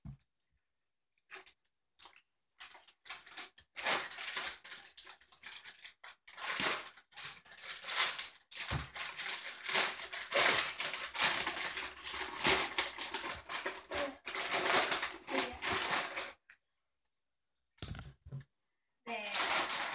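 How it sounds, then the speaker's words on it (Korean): Scissors snip and tear through a delivered parcel's packaging: rapid crinkly cuts and rustling in dense bursts, close and fairly loud, with short pauses between them. "네, 가위로 쳐보도록 할게요."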